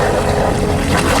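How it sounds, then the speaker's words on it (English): A loud, steady mechanical drone of a sailboat's engine motoring in calm conditions, with constant low rumble and rushing wind noise throughout. "That noise you hear in the background is my engine."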